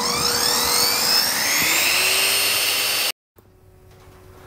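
Blower-powered cast iron smelting burner rated to 2500F roaring loud and steady with a rising whine, then cutting off abruptly to a quieter low hum and hiss.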